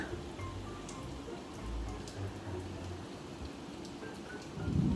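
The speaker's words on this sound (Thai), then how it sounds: "วันนี้ตอนเที่ยงเที่ยงแบบฝนตกนะคะเนี่ย" Midday rain falls in a steady, even hiss of drops on surfaces, with a low rumble in the background that swells slightly at the end.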